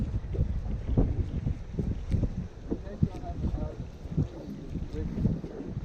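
Wind buffeting a microphone outdoors at Hickory Log Creek Reservoir during a fishing outing, a heavy, uneven low rumble with gusty surges throughout, close and loud, with someone talking under it.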